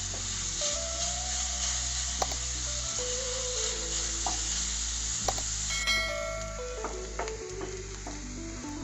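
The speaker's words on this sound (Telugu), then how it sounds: "ఇప్పుడు ఈ ఉల్లిపాయ ముక్కల్ని బాగా ఎర్రగా వేగేదాకా వేయించుకోవాలి." Chopped onions fry in a pan with a continuous close sizzle and hiss, over a low steady hum, broken by occasional stirring scrapes and small clicks; no one speaks.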